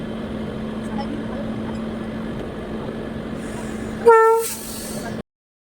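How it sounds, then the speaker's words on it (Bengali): The Kanchanjunga Express from Agartala to Kolkata Sealdah waits at a station during a locomotive change. A steady low hum runs under the scene before one short, loud horn blast near the end, then sudden silence. "এখন এখানে ইঞ্জিন চেঞ্জ হবে, তো দেখাচ্ছি তোমাদেরকে ইঞ্জিন কিভাবে চেঞ্জ করা হয়।"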